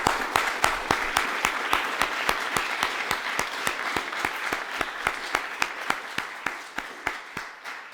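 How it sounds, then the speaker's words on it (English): Audience applause at an evening literary reading, with one pair of hands clapping close and loud in a steady rhythm over a softer wash of clapping from the wider crowd, lasting nearly eight seconds. "Can we get one more round of applause, please"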